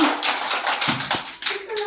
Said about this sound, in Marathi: छान व्हेरी गुड वाजवा टाळ्या सगळ्यांनी